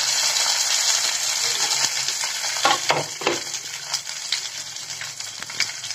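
Urad dal and chana dal fry in a hot pan, a dense steady sizzle broken by a few sharp clicks of stirring against the metal, loud and close with no voices.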